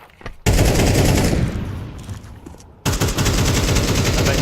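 Automatic gunfire from a Counter-Strike match rips out in loud, dense bursts. One brief gap breaks the firing before another sustained volley follows.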